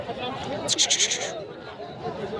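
Sheep and lambs bleat at the Haveri sheep market, a short burst of several overlapping cries standing out over a busy crowd murmur and chatter.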